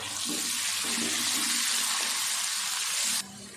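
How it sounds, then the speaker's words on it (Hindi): Water pours steadily and splashes into a cooking pot of spiced masoor lentil pulao for about three seconds, close up, then cuts off abruptly. "थोड़ा सा पानी मैंने डाला"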